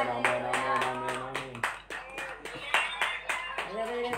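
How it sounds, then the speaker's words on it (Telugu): Church congregation at a Telugu sermon clapping loudly in a steady rhythmic beat, mixed with a singing or chanting voice over the claps. "గట్టిగా చప్పట్లు కొట్టి దేవునికి మహిమ పరచండి."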